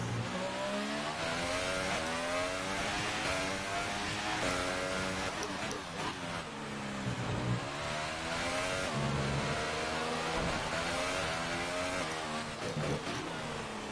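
Formula 1 car engine on a lap in the F1 2018 video game, loud high-revving whine climbing and dropping through repeated gear changes, continuous and close throughout.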